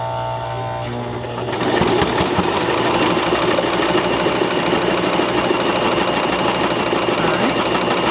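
A sewing machine stitching a zipper sack: quiet at first, then from about a second and a half a loud, close, continuous whirring rattle of the needle running steadily to the end.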